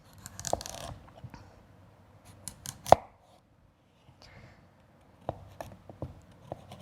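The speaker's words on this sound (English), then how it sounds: "So I usually cut the parsnip around the core." A knife cuts a parsnip around its woody core, giving scattered crisp snicks and scraping strokes with one sharp crack near the middle, close and fairly quiet with pauses between cuts.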